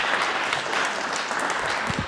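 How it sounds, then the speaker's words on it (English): An art gallery audience applauds a volunteer called up on stage, a brisk, full round of clapping close by that stays steady throughout, with no voices over it. "Give her Julianne a round of applause."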